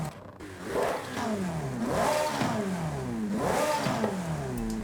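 Ferrari F8 fitted with an upgraded intake in Forza Horizon 5 revs hard, climbing and dropping in pitch through several rising sweeps, loud and close with no talking.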